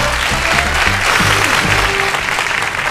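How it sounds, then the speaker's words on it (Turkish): Studio audience applauds on a Turkish television game show, a loud, dense burst of clapping sustained for about three seconds with faint voices mixed underneath. "Alkışlıyoruz."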